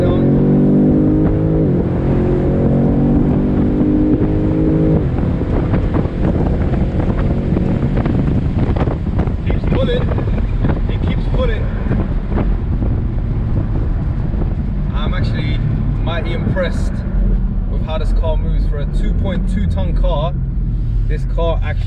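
A 2020 BMW M850i Cabriolet accelerates hard on kick down, its engine note rising through the gears under heavy wind rush from the open top, while occupants talk over the roar.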